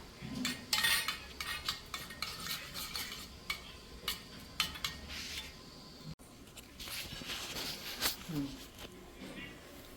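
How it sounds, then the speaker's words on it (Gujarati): A spoon clinks and scrapes steadily around a bowl of yogurt in quick irregular strokes, close up, with soft voices talking faintly in the background. "દહીં થોડું મિક્સ કરી લઈએ"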